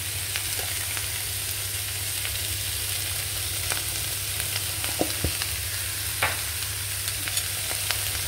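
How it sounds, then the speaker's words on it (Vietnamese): Vegetarian stir-fried rice noodles and vegetables seasoned with mushroom pepper seasoning sizzle steadily in a hot pan, with scattered clacks of a utensil stirring and tossing throughout, close and continuous with no talking. "xào rau cho nó tiêu lại"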